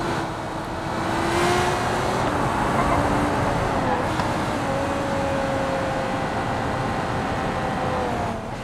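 Steady car engine held at about half throttle in BeamNG, a continuous droning hum with road and tyre noise over a slick, low-traction surface, fairly even in loudness throughout.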